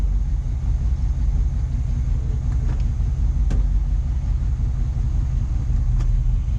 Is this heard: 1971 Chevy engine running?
yes